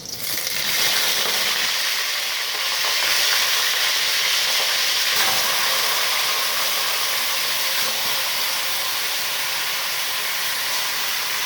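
Chicken sizzles loudly in a hot pan, a dense, steady frying hiss that holds close and continuous throughout with no talk.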